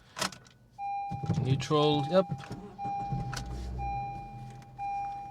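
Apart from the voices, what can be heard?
2012 Honda Civic engine starting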